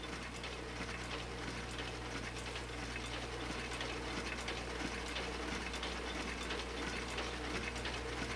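A small offset printing press runs with a continuous mechanical clatter and ratcheting over a low steady hum, moderately loud and unbroken, with no voices.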